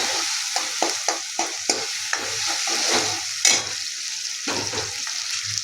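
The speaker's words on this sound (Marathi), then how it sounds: "बघू शकता ते पण छान फ्राय होते" Cinnamon and whole spices frying in oil in a pan, with a series of sharp scraping stirs and clinks over a soft background sizzle, close and fairly loud.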